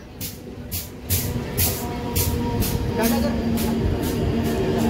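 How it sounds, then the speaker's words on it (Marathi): A train rumbles in with a steady low roar and regular rhythmic clacks, while people's voices carry faintly in the background. "ट्रेन आली"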